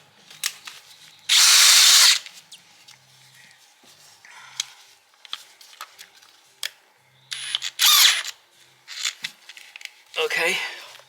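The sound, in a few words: power drill running with old Jacobs chuck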